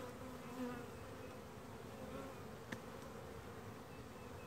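A steady, dense buzz of many honey bees close by while a bee package is installed, droning continuously without pause, with a single faint click partway through.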